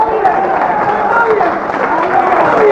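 An audience at a 1981 Nation of Islam speech claps and cheers in a continuous, loud wave of applause, with crowd voices calling out throughout.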